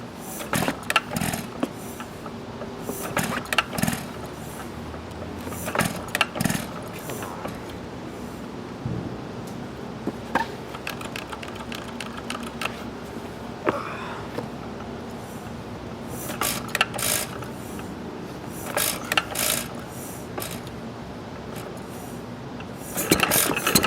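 A 1920s Novo 3 hp Model S upright hit-and-miss engine with a wobbling cam gear runs with uneven mechanical chuffing and clattering bursts that recur every few seconds over a constant background hum.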